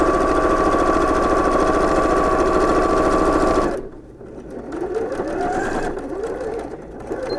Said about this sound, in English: And sew up this last side.